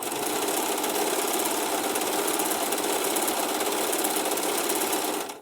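A Singer Profinish serger running steadily while stitching aprons around a curve, a fast rhythmic mechanical whir at constant speed that stops abruptly at the end.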